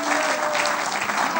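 Applause from the audience at a televised debate for the 2018 presidential elections, steady and dense with no breaks throughout, close and full.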